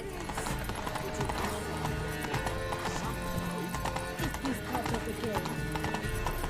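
A horse gallops in The Witcher 3 video game with rapid, loud hoofbeats that run continuously and are broken by a whinny. Someone talks excitedly over the sound throughout.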